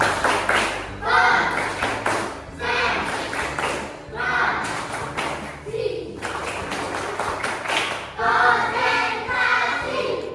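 A school class does rhythmic concentration clapping in short bursts, several sharp clap patterns separated by brief pauses, with a child-like voice and room noise between them.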